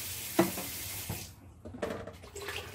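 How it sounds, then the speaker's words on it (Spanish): Water is poured from a cup into a blender jar in a kitchen to rinse it, a short splashing gush that tails off into quieter sloshing. "Vamos a ponerle poquita agua a al vaso de la licuadora para enjuagar."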